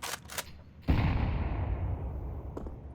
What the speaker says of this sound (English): Nothing but explosions here in the first minute of the round.